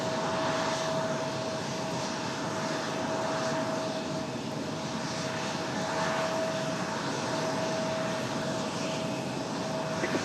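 An airplane at Raleigh Durham International Airport, a continuous loud engine roar holding steady throughout with a sustained whine running through it.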